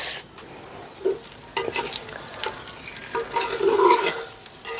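Sugar and coconut mixture cooking in a pan, stirred continuously: a bright sizzle rising and falling with repeated scraping sweeps of the spoon, close and fairly loud, no talking.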